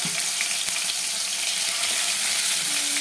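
Marinated chicken pieces fry in hot oil in a wok, giving a steady, dense sizzle that stays level and fairly close throughout, with a few faint clicks and no talking.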